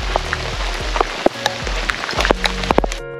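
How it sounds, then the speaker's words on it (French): Rain falling at Kalbarri National Park in Australia, drops pattering and tapping irregularly on a nearby surface, some hits sharp and close, over a background wash, with no one speaking. "on commence à pleuvoir"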